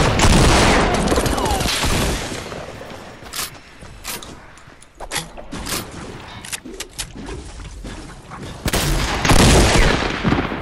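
Close-range submachine gun fire in the battle game Fortnite, loud bursts of rapid shots crackling in clusters with sharp single pops between them, along with dense game effects throughout.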